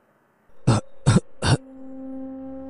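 Three short, harsh coughs in quick succession from an elderly woman taking her first drag of a cigarette, close and distinct, followed by a low steady hum.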